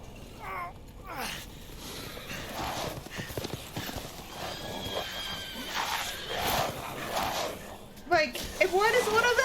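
A horse in the Resident Evil Village video game whinnies with clip-clopping hooves amid busy game audio, the neigh rising clearly near the end, with a person speaking over parts of it.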